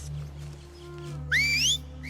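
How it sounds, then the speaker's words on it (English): A sharp, rising-then-wavering human whistle signal from the TV show The Last of Us cuts in briefly over a low background hum, loud and close, lasting under half a second. "That damn whistle."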